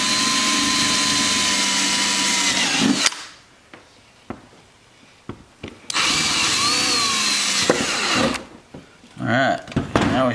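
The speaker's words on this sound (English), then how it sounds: "We're gonna drill these a little bit bigger." A power drill with an oversized bit enlarges bolt holes in a C7 Corvette rear bumper diffuser, whining loudly and steadily, stops for a few seconds of quiet handling noises, then starts up again for another long, close-up run.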